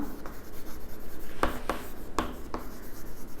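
Chalk or marker scratching across a classroom board as an example is written out, with several short distinct stroke bursts and light scraping against steady room noise, and no one talking.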